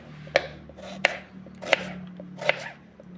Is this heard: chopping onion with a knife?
yes